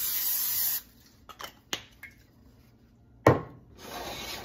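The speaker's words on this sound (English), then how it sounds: "I'm gonna spray our skillet with a little non-stick cooking spray." Two short, sharp hisses from an aerosol can of non-stick cooking spray onto a skillet, with a few light knocks and scrapes in between.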